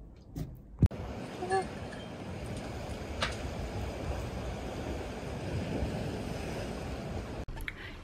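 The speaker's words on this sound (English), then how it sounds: "off to the beach again" Beach waves and wind on the Sicilian coast, a broad, continuous wash of surf with gusting wind noise, a couple of sharp handling knocks near the start and end.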